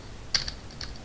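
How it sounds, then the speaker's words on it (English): Keys clatter on a computer keyboard, a few quick separate taps against faint room hiss, with no talk. "let me type it right"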